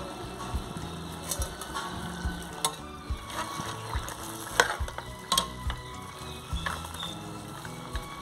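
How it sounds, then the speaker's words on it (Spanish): Pork stew ingredients with tomato and onion start frying in a clay pot, giving a soft steady sizzle with scattered spoon scrapes and clicks, fairly quiet, no voices. "Bueno, ya se va a empezar a freír"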